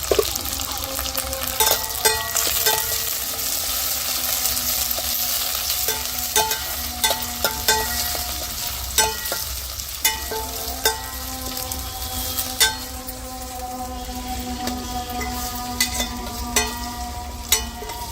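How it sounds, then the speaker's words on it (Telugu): Chopped onions fry in a pan for a village-style fish curry. A steady, close sizzle runs throughout, broken by scattered clinks and scrapes of stirring, with no voices. "ముందుగా తరిగి పెట్టుకున్న ఎర్రగడ్డలు అయితే వేసేసుకున్నాం."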